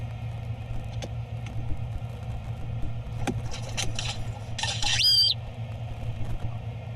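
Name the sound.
bird squawking near the camera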